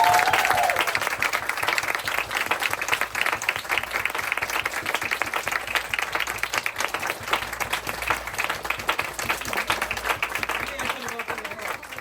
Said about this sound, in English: We were clapping and waiting for her to come out